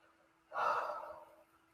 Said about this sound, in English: Everyone take a breath.